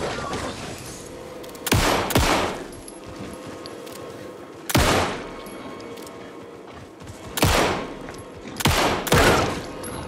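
Gunfire in the video game Alan Wake 2, loud separate bursts of shots at roughly two, five, seven-and-a-half and nine seconds, each cracking sharply over a low ambient game background, with no talking.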